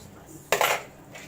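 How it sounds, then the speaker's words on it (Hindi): Water is poured into hot, coarse hand-pounded mutton keema in a pan for dahi keema, giving a sudden sharp hiss that bursts out midway, then fades over a fraction of a second against a quiet kitchen background. "अब मैं इसमें पानी भी डाल दूंगी थोड़ा सा।"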